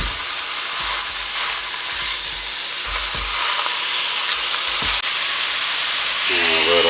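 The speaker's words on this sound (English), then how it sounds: "let's go ahead and add our ground beef and start cooking" Ground beef and sautéed vegetables fry in a pan, giving a steady loud sizzle and hiss with a few scraping stirs throughout.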